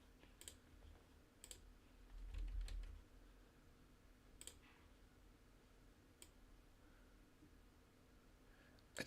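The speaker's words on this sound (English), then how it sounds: "so that people can't see me actually typing" Soft, scattered keyboard taps in irregular bursts over a faint background hum, quiet and close, with no one speaking.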